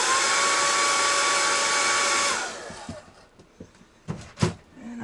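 A hair dryer blows loud and steady on alcohol ink marker on paper for about two seconds, then winds down and stops. A few faint handling taps and clicks follow.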